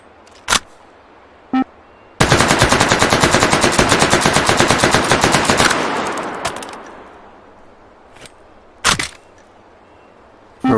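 Sustained rapid machine-gun fire of AP incendiary rounds in a video game, a dense loud burst of several seconds that fades into a trailing echo, with a few isolated sharp single shots before and after.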